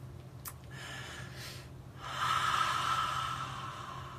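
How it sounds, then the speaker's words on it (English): A person breathes out slowly during a guided breathing meditation: a brief sniff comes early, then a long, soft, breathy exhale settles in from about halfway and holds steady, close to the listener with no other voices. "Exhale."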